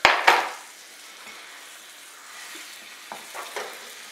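An egg dropped into a buttered pan lands with a couple of sharp splattering hits, then settles into a soft, steady sizzle with a few faint pops.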